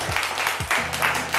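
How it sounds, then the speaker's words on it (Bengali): Audience applauds at a Holi family contest on stage, a brief, steady patter of clapping with a low musical hum underneath. "হাততালির আওয়াজ সবাই"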